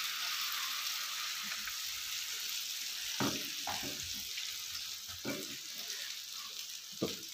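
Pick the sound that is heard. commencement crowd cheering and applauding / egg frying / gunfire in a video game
egg frying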